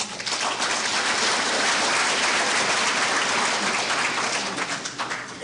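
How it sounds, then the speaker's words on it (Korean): Sustained audience applause at a lecture on lung cancer prevention and treatment, a dense steady clapping that fills the whole stretch and tapers slightly at the end, with no voices over it. "큰 박수 부탁드립니다."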